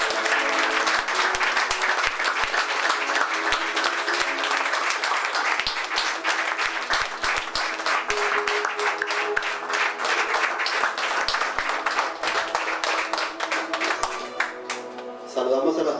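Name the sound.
congregation applauding during church service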